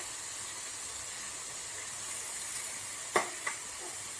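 Shankarapoli pieces frying in oil, a steady soft hiss and sizzle throughout with two sharp brief crackles near the end, close and fairly quiet, no voices.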